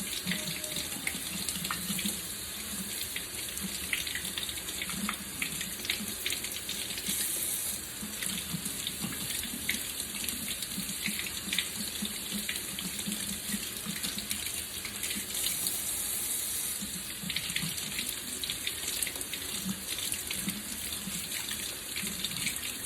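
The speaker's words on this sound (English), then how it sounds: "Just gonna rinse this off." A faucet runs steadily while freshly dyed yarn is rinsed under it, giving a constant close splashing hiss of water into a sink with slight shifts as the yarn moves through the stream.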